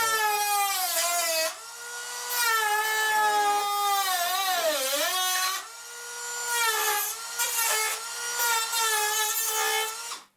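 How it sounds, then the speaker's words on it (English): A battery Dremel cuts through model railway track with a high, whining buzz that rises and falls in pitch as the load changes, in several long bursts with brief pauses between them. "this is a battery Dremel which I'm using, which is pretty cool"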